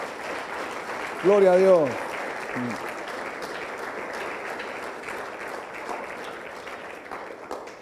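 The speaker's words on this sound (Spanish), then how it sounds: "Dale ese aplauso al Señor." Church congregation applauding steadily throughout, a broad wash of clapping that continues under a voice speaking loudly and briefly near the start.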